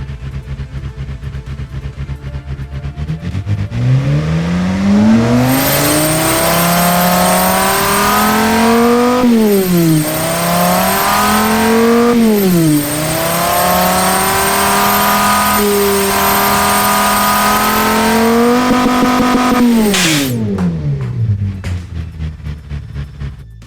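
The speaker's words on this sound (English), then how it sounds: "this is the sound of an aggressive racing camshaft on a V10" A V10 racing engine with an aggressive racing camshaft in the game Automation revs hard and loud, its pitch climbing and dropping through repeated throttle blips before winding down at the end.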